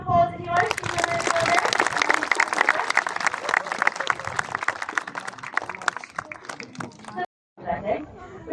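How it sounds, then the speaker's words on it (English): At a bird show, an audience applauds a falcon with sustained clapping from the crowd for about seven seconds. It cuts off abruptly, and a voice and other sounds follow. "You guys can give her a round of applause if you like."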